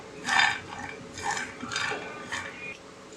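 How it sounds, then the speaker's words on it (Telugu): Peanuts dry roasting in a pan, stirred in a few scraping, rattling bursts, close and moderately loud. "ఇందులో నేను పల్లీలు అనేవి నేను డ్రై రోస్ట్ చేసుకుంటాను"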